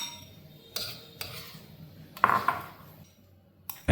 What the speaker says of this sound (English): Stir as you pour.